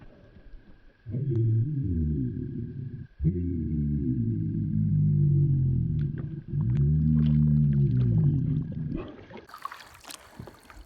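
Long, low gurgling rumbles with warbling, shifting pitch run in three extended stretches, separated by brief pauses, close and fairly loud.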